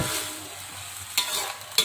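Beans being stir-fried in a pan, with soft continuous frying sizzle and two sharp spatula scrapes or clanks against the pan near the end, close and fairly quiet.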